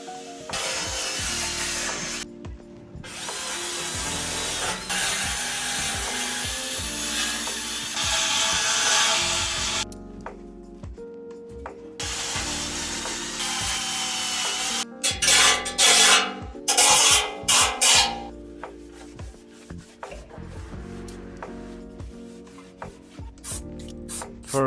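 Abrasive scrubbing clears flash rust from a metal seat pan of a BMW R45 motorcycle on a balcony, long rasping rubbing strokes with pauses, close and fairly loud, no talk.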